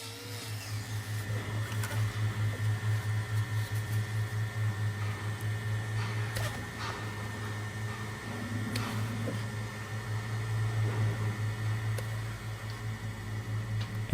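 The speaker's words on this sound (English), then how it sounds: "it's much easier for me to use the grinder, and I can be very precise with it" A grinder trims the hard horn of a massive bull's rotten, cracked hoof, humming steadily close by with a pulsing, vibrating drone and scattered ticks and scrapes as it works, without any talking.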